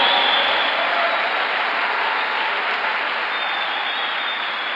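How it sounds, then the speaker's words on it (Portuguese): Sunday worship congregation in a church breaks into strong, sustained applause, an even wash of many hands clapping together that holds steady for several seconds without talk. "Dá um aplauso bem forte a Ele."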